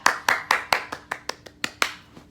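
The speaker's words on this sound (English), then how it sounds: "going to put some hand claps right there" Ten crisp hand claps added as a sound effect, evenly spaced at a brisk steady rhythm, sharp and close, fading slightly toward the end with no voices.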